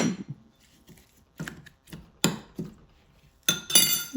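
Fresh mint leaves and chili get crushed for an orange drink, a handful of close, irregular knocks and thuds separated by short pauses, with no voices over them.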